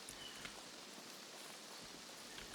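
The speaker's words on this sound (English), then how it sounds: "That's always all you want on the woods when it starts raining." Rain falling in the woods in the video game Escape from Tarkov, a faint, steady patter and hiss of drops on leaves and ground, soft and unbroken, no talking.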